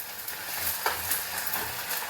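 Onion and ginger-garlic paste fry in a pan with a close, continuous sizzle and hiss. Light stirring scrapes rise and fall briefly, and nobody talks.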